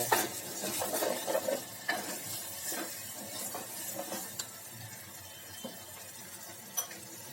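Crushed garlic and spice paste hits a hot cumin tempering in a pan, setting off a close, crackling sizzle with repeated scrapes and clinks of a stirring spoon against the metal and no voices.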